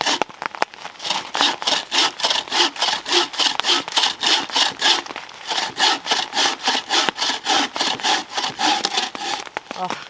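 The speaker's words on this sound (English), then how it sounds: "So now I gotta cut up some firewood, cut and split it because everything's pretty wet." Hand saw pushing back and forth through wet firewood at a rainy fall tarp campsite, a steady rhythm of about two strokes per second that carries on close and loud with no pause.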